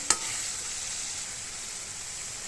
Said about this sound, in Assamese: দেখিছে নহয়, পিঁয়াজখিনি ভালকৈ ভজা হৈছে মোৰ আৰু তেল ফুটিছে, তেতিয়া মই দৈখিনি ঢালি দিছোঁ ইয়াতে